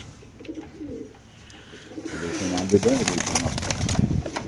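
Caged racer pigeons, among them a Pakistani Chuha pigeon, coo at a pigeon market stall; the cooing grows louder and busier midway, under nearby voices talking.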